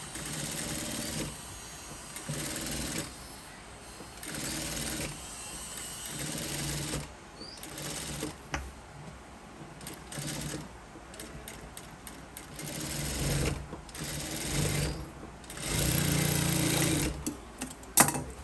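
A sewing machine stitches around a garment neckline in repeated bursts of fast, even running, pausing briefly between runs and picking up again, fairly quiet and close with no talking.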